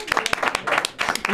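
Audience clapping at a live hip hop history conversation in Lansing, bursts of hand claps mixed with talk and voices from the crowd.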